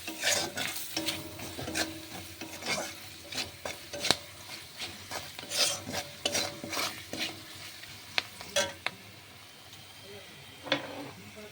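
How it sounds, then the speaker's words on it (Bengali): Spices fry and sizzle in a pan while a utensil stirs them, with repeated scraping strokes and metallic clinks over a constant crackle, close and fairly loud. "তারপর তো নাড়াচাড়া করে নেবো।"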